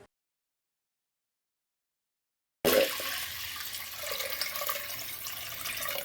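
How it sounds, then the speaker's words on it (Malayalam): Water runs steadily into a pot for rice porridge after a stretch of silence, a close, continuous pouring rush that holds at an even level to the end. "ഇതിപ്പോൾ ഞാൻ ഒരു ലിറ്റർ വെള്ളമാണ് ഒഴിച്ചിരിക്കുന്നത്"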